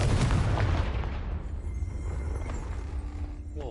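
A Confringo spell blast in Hogwarts Legacy, a loud booming explosion at the start that rumbles and slowly fades, with a few faint effects trailing after.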